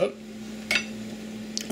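A spoon knocks and scrapes against a metal pot of beef rib soup in a small kitchen, giving two or three short clinks over a steady low hum.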